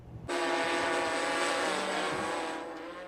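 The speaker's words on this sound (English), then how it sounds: "A remote control helicopter hovers over this Medicine Hat neighborhood, taking pictures" A steady, close buzzing drone of a small remote-controlled helicopter hovering over a Medicine Hat neighborhood, starting abruptly and holding constant for a few seconds before easing slightly.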